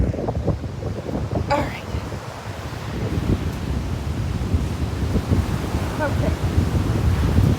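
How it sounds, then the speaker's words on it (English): Strong wind buffets a microphone at the seashore at sunset, a constant low rumble over distant surf, with someone talking briefly now and then. "thank you for having patience with me while I try to fight the wind here"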